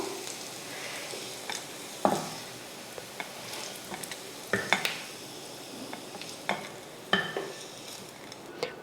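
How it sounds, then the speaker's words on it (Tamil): Bitter gourd fries in oil, sizzling steadily in a pan while a spatula stirs, with occasional scraping clinks against the metal; no voices. "பாவக்காய் வந்து நல்லா வதங்கியிருக்கு"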